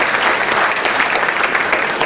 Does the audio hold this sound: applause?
yes